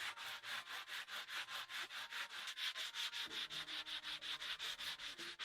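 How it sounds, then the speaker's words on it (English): Rhythmic back-and-forth rasping of sandpaper on a rough wooden tabletop, close and even, with about thirty steady strokes and no voices. "Xiao Shuai rubbed sandpaper across the tabletop, making the rough tabletop smooth and even"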